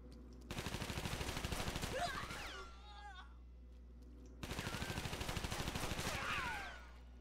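A close-range weapon fires in London 2038, a demon-themed shooter game, in two sustained bursts of rapid shots separated by a short lull, with whooshing effects trailing each burst.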